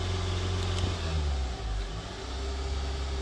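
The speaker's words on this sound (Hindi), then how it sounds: "बिल्कुल फुल प्रेस किया एक्सेलेटर को, 2000 के ऊपर आरपीएम नहीं जाता है।" A Honda Accord engine held with the accelerator floored yet unable to climb past about 2000 rpm, giving a low, steady drone with slight wavering and no rising pitch.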